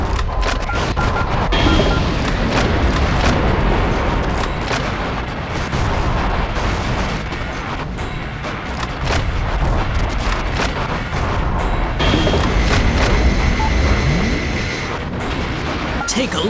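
Sustained heavy gunfire and booming impacts as buildings are shot up in the Metal Wolf Chaos XD video game, dense and loud throughout with a voice speaking briefly over the barrage.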